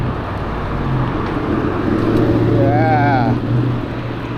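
A race car at a street takeover idles and revs nearby, its engine drone rising in pitch as it pulls away, with voices talking over the steady motor rumble.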